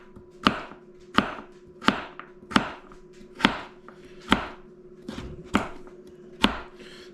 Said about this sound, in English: the smaller you cut the vegetables